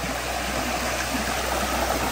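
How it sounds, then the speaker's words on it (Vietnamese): A mountain stream swollen by heavy rain rushes in a steady, loud, broadband roar that stays constant throughout, with no voices. "Đây là cái nguồn suối này"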